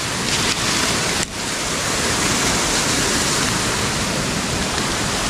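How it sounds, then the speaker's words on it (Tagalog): Loud, constant rushing floodwater in a rain-flooded field roars without pause, a thick broadband wash like a fast current nearby, with one brief dip early on. "Ngayon po kabilis bumaha dito."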